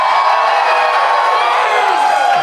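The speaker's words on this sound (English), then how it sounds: "Oh, we got a crowd!" A live convention audience at Gen Con in Indianapolis cheers and whoops loudly and continuously, a dense roar of many voices filling the whole stretch with no break.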